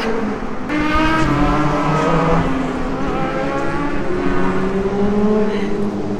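Motorcycles pass along a city street at the start of riding season, their engines droning and rising in pitch as they go by, loud and continuous for several seconds with no talk.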